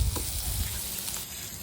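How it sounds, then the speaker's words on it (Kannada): Stuffed capsicum pieces frying in melted butter in a pan, giving a steady, fairly quiet sizzle with faint crackles and no talking. "2 ಕಡೆ ಫ್ರೈ ಮಾಡಬೇಕು."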